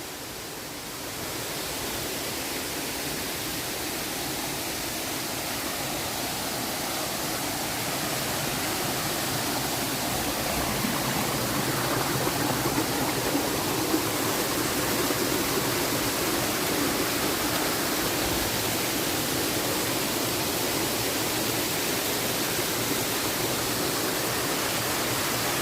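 Kattar waterfall in a forest pours with a dense, unbroken roar of rushing water, loud and steady from start to finish, swelling slightly in the middle.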